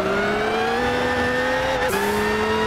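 4WD rally car engine held in first gear in Gran Turismo 6, a loud steady drone that holds its pitch, then drops briefly and settles again, with no talk.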